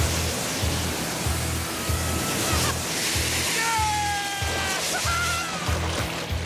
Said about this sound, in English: Stage 1 fired and produced a gentle rideable start.